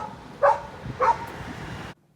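Street dogs near a road construction site bark twice, two sharp barks about half a second apart over a low background rumble, ending abruptly.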